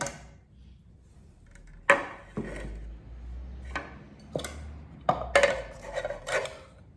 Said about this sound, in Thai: สับไก่กันจ้า